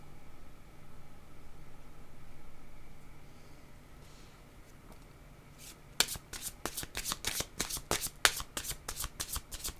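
Tarot cards being shuffled, starting with a quiet hiss of handling, then a rapid run of crisp, riffling card slaps over the last few seconds, close and with no talking.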